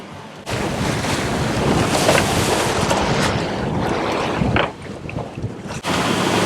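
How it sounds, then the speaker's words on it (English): Choppy waves slosh and splash around a sailboat in the Gulf Stream amid steady roaring wind noise, loud and continuous with a brief dip near the end. "that gives us some really choppy waves and uncomfortable motion of the boat"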